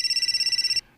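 Telephone ringing with a rapid electronic trill, a steady pulsing ring lasting under a second, loud and close, then cutting off to near silence.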